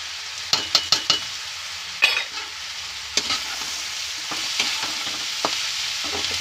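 Onions and salt stirred and fried in a pan for baingan bharta: a steady sizzle runs throughout, broken by sharp spoon scrapes and clinks against the pan in quick clusters, close and fairly loud, with no talking.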